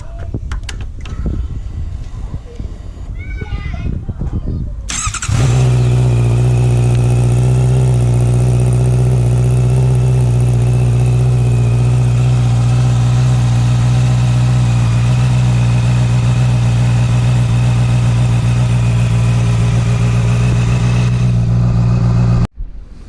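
A Honda CB650R motorcycle with an Akrapovic racing exhaust, baffle fitted, cranks over and fires up. It settles into a loud, steady, deep idle that drones on close by for about seventeen seconds before cutting off abruptly.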